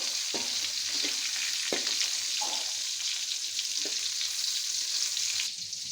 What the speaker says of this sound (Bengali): এখন আমি ওই ডিমের সাথে এই ডিমগুলো ভেজে নিব।